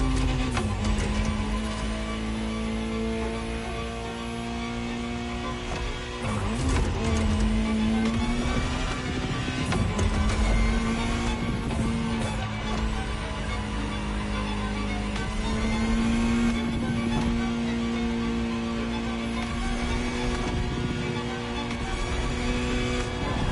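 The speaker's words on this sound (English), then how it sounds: "Just listen to the car you're driving." Ferrari supercar engine in The Crew Motorfest, a steady droning hum that rises and falls gently with shifts in revs and stays at a constant, moderate level throughout.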